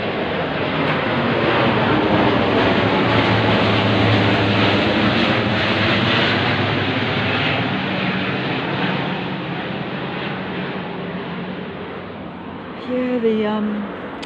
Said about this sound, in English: There is a plane going over, I think.